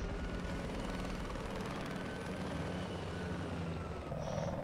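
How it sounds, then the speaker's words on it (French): Helicopter in a Battlefield 4 competitive 8v8 match, a steady whirring rotor and engine drone heard from a distance, faint and continuous with no talk. "Et voilà, ouais, l'hélico qui vient de spawn."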